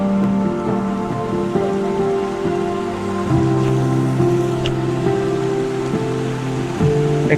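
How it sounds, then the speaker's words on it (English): Water spills continuously from a small waterfall into a pond in a tranquil Japanese garden, a steady close splashing and trickling wash with no voices. "waterfall over here."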